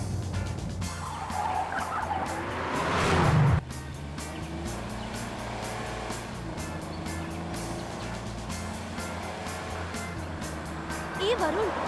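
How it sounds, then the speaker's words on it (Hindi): A car speeding and skidding, with a loud tire squeal that swells and cuts off, then a steady engine drone under ongoing dialogue and dramatic film music. "गाड़ी तो इतनी तेज क्यों चला रहा है?"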